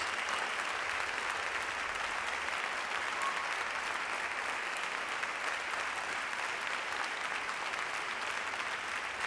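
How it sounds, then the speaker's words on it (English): Steady, dense applause from a large audience at a show, a continuous even wash of many hands clapping at constant loudness throughout, with no music or voices on top. "I heard applause."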